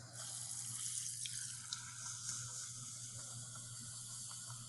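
Effervescent tablet fizzing as it dissolves in a cup of hot water, a steady soft hiss with faint crackling, close and quiet throughout.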